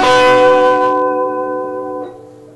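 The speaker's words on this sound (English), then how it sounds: "the other thing that he's doing is putting quite a bit of vibrato on his chords" A guitar chord rings out with vibrato, its bright attack settling into a sustained, wavering chord that slowly fades; played solo and close.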